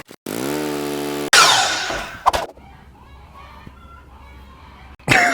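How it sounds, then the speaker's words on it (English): A power saw whines up and cuts loudly, and in the quieter stretch roosters crow faintly in the distance. "Damn roosters. Sounds like some chickens are getting choked."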